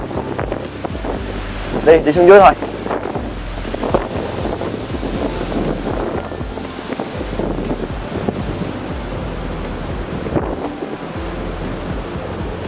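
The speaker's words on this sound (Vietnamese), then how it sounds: "Trời ơi, sóng to bành bành luôn kìa." Big sea waves crash and surge against the shore of Con Dao island amid strong wind buffeting the microphone, a loud rolling roar with a few heavier swells, while people talk briefly over it.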